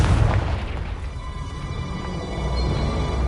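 A heavy boom from the Confringo fire spell in Hogwarts Legacy opens loud and deep, then settles into a sustained low rumble that lingers to the end.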